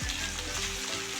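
Okra (bhindi), about a kilo, tossed into hot oil in a pan for a masala cheese bhindi fry, giving a steady, fairly loud sizzle and crackle through a short stretch with no talking.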